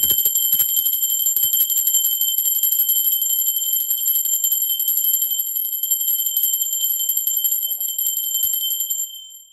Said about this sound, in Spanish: La campana, seres divinos.